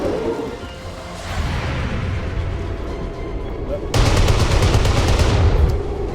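Gunfire in the XCOM 2 video game, a low rumbling backdrop followed by a sudden loud burst of rapid shots that continues to the end.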